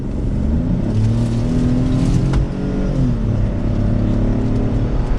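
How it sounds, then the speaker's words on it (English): A 2022 Ford Bronco Sport Outer Banks with a 3-cylinder engine accelerates in sport mode, heard from inside the cabin as a loud, steady engine drone whose pitch climbs through the gears with a brief dip at a shift. "now with this 3-cylinder engine, let's pop it over into sport mode, I believe it was, and we'll give it a little bit of gas"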